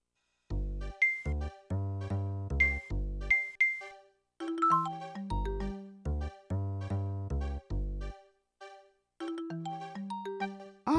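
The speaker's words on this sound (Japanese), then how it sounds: "お電話よ。" A telephone rings in the Dreamcast game Tantei Shinshi DASH as a repeating electronic ringtone melody, clear and alone, in short bursts with brief pauses between phrases.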